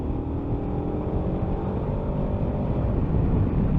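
A 2022 KTM 1290 Super Adventure S pulls hard in fifth gear, its engine a low, steady drone that swells slightly louder toward the end amid wind rush.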